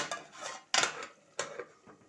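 A lid is set onto a cooking pan of fish, giving a few sharp close metallic clanks and rattles, one louder clack followed by lighter taps, with no talk over them.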